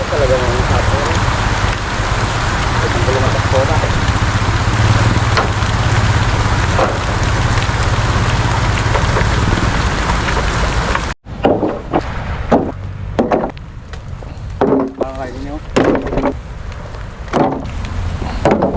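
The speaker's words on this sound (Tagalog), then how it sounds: "Lakas yung ulan." Steady heavy rain hisses loudly, then continues with scattered knocks and thuds nearby and a voice speaking now and then.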